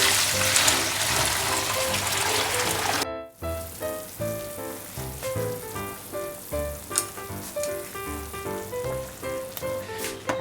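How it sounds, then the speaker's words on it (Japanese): Beef tendon boils in a pot, a loud hissing bubble for a few seconds, then softer, rhythmic bubbling with faint tonal sounds in the background. "筋肉をまず茹でます。"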